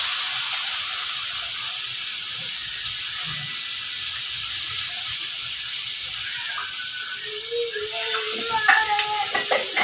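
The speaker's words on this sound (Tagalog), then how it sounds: "Igisa na natin yung ating munggo" Mung beans for ginisang monggo sauté in a pan with a steady bright hiss and sizzle, and a few louder stirring clinks and scrapes near the end.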